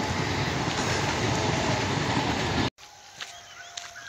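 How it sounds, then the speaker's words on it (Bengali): A train rumbles past along a nearby railway line in a loud, steady roar that cuts off abruptly. A much quieter outdoor scene follows with faint scattered sounds. "ট্রেন আসছে।"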